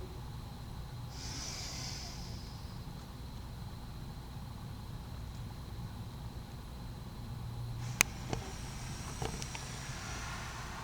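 Exhalation during a breathing exercise, a soft, airy breath out early on, followed by quiet background and a few faint clicks and rustles later.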